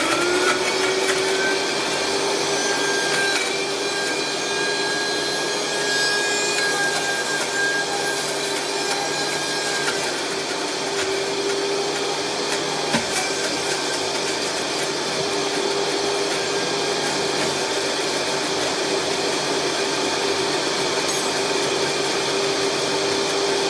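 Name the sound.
Vitamix blender blending frozen fruit shake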